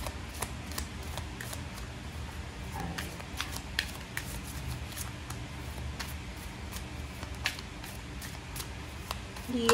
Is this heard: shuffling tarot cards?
yes